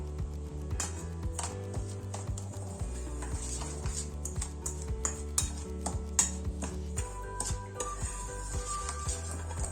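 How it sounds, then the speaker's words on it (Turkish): Baking powder, vanilla and sugar are stirred together in a bowl, with a quiet steady scraping and light clinks of a utensil against the dish and no talk. "Önce bunları karıştıracağım."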